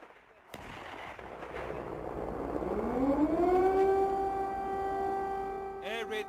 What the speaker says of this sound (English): Air raid sirens go off in Ukraine's capital Kiev